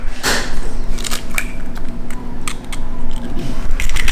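Electric mixer on low speed whisking cheesecake batter with eggs, a steady close mechanical whir with light clicking and rattling throughout.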